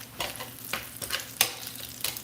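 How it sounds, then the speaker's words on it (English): Bacon frying in a pan during a home baking session, a steady crackling sizzle with sharp pops and spits recurring every half second or so, close and fairly quiet, with no talking over it. "Bacon is sizzling."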